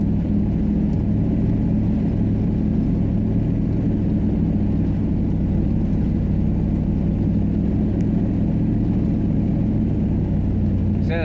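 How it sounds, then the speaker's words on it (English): A truck rolling over a rough road at night, its engine and cab rattling in a steady, loud low rumble that runs unbroken from start to finish with no voices. "This truck ride's kind of rough"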